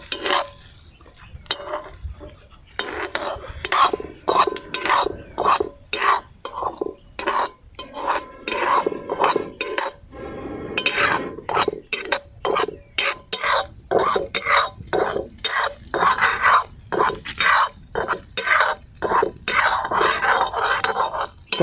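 Amaranth (rajgira) seeds popping as they are stirred in a hot kadhai over low flame, a continuous stream of rapid crackles and pops with repeated scraping and clanking of a spoon against the metal, close and loud.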